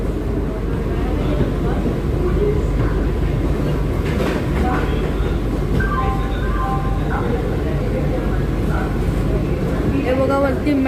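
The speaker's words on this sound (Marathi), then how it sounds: "आता ट्रेनला 100च्या स्पीडमध्ये जायची कोण नाही थांबवू शकत." An AC local train on Mumbai's Harbour Line runs at speed near 100 km/h, with a steady loud rumble and rail noise throughout and faint clatter, with talk over it.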